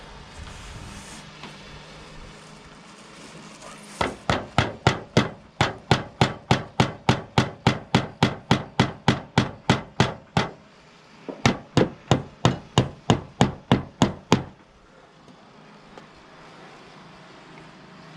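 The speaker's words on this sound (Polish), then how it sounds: "trzeba młotkiem poprawić" Rapid, evenly spaced hammer strikes ring out on bent sheet metal in two long runs separated by a brief pause, loud and close.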